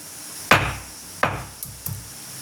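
Cloves for Sulaimani tea are lightly pounded, three or four sharp, close knocks spaced about a second apart.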